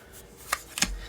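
Quiet handling of a tarot deck being split and shuffled, with a few soft papery riffles and taps in brief bursts against near silence.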